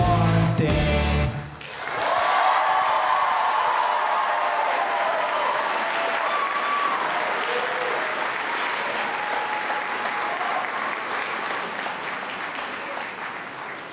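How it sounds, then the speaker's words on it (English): Audience applause fills a high school variety show auditorium, starting after a brief musical ending and carrying on as sustained, dense clapping that slowly eases in loudness. "if there was a prize for audience clapping tonight, you would have crushed it."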